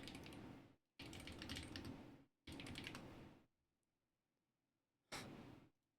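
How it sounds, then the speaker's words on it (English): Quiet computer keyboard typing comes in three rapid runs separated by short pauses, then a brief final burst after a silence. "I'm not typing anything in correctly."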